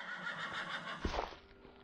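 A horse neighs in Minecraft, a short synthetic whinny around the middle of the clip, moderately loud over a steady game background.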